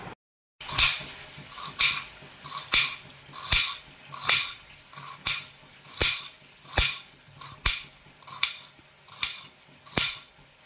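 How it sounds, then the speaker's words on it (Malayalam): A knife chops onions on a cutting board in a steady rhythm of about a dozen sharp, close knocks spaced roughly a second apart, each strike crisp and clear with quiet pauses between. "ഇനി നമുക്ക് ഈ സവോള ഉള്ളിയും കൂടെ ഒന്ന് അരിഞ്ഞ് റെഡിയാക്കി എടുക്കാം."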